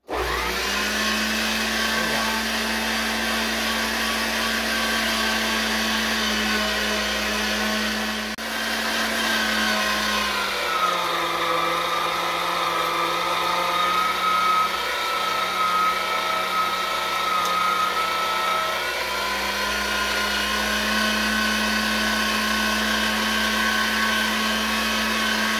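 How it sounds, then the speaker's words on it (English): An electric meat grinder runs steadily while coarse-grinding meat for bratwurst, a loud continuous motor whine and hum that shifts pitch slightly as the load changes, heard alone without talk. "for the purpose of bratwurst, we are just doing a coarse grind"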